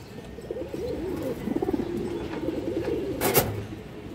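Old bred-line pigeons coo softly in low, rolling murmurs close by, with one brief sharp click near the end and no talk.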